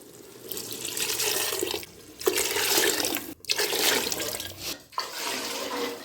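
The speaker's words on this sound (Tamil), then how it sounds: "2 லிட்டர் ஊற்றியாச்சுங்க" Two liters of water pour steadily into a cooking pot for mushroom biryani, a loud continuous gush broken by a few brief pauses, with no one talking.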